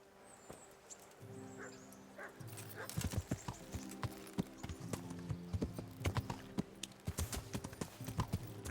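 Horse hooves clip-clop in a quick, uneven rhythm as a mount rides through a town in a fantasy video game, with game music and ambience underneath and a few louder hoof strikes standing out.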